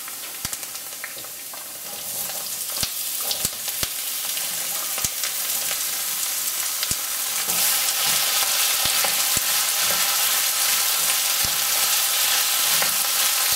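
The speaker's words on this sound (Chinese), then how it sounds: "煸炒大概40秒到1分钟，你看辣椒有点对香味，有点辣味出来，你就可以开始加上莲藕丁了。" Diced lotus root and chili peppers stir-fry in a hot wok, giving off a loud, steady sizzle. Sharp scraping clacks from the spatula punctuate the frying, and the sizzle swells midway as the lotus root goes in.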